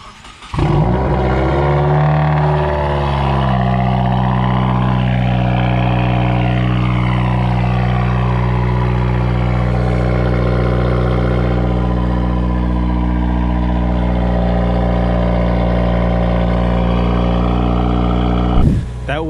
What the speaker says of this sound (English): That was a cold start for the WRX. Now that has a Cobb catted downpipe with a muffler delete.